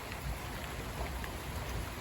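Steady rain falls as a supercell thunderstorm eases off, a dense, even hiss of drops on surfaces running throughout with no distinct thunder.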